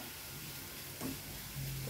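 Garlic and onion frying gently over low heat in a pan, a quiet steady sizzle with a couple of brief stirring scrapes, close up and without voices.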